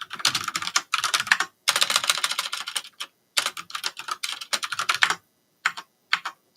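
Rapid keyboard typing sounds close and crisp in dense runs of clicks, broken by short silent pauses between bursts.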